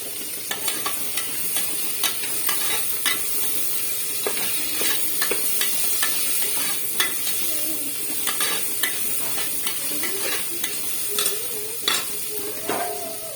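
Tomato, coriander and mint fry in a pan with a steady, close sizzle. Scraping stirs break through repeatedly as the mixture is turned.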